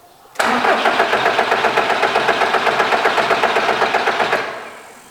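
A VW diesel engine with freshly bled fuel lines cranks loudly and steadily for about four seconds in rapid rhythmic pulses, then winds down and stops.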